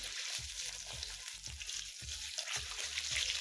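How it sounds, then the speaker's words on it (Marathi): Steady oil sizzle from colocasia leaves frying in a wok for alu vadi, with repeated soft clanks and stirring scrapes from a utensil against the pan. "दुसरे पण पानं आपण कढईमध्ये तळून घेऊ सगळ्याला।"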